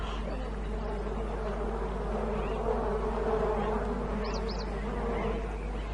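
Steady buzzing of bees hovering nearby around a water well at a hot waterhole, a continuous drone with faint outdoor ambience and no talking.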